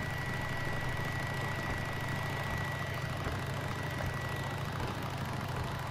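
Motorbike engine idling in Days Gone, a steady low rumble with a constant mechanical hum that runs evenly throughout, close and unchanging, with no voices over it.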